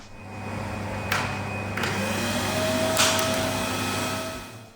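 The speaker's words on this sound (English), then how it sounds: "A little bit of a hoover because it had a load of cobwebs" A vacuum cleaner drones steadily nearby while cleaning cobwebs off a cheap, rough Honda CBR600 F4 motorcycle, its motor whine holding constant, with a few brief sharp clicks or scrapes as it moves.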